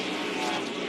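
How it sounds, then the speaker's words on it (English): A race car engine during an ARCA race at Toledo drones steadily and loudly in a brief, continuous burst, with no talking. "Watching behind that race car to see if he was"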